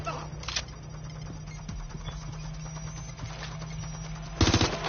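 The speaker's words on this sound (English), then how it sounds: "Shots fired, shots fired." Gunfire in the video game Watch Dogs: a quiet bed of game ambience with scattered faint shots, ending in a louder, closer burst of rapid automatic fire near the end.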